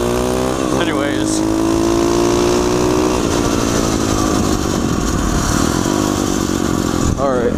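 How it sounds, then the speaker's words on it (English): An SSR 140 pit bike engine revs loudly and close, holding a steady buzzing drone with rising and falling throttle and one sharp blip near the end. "I want to like rev it out and forth and go like, you know, higher RPMs for a long time"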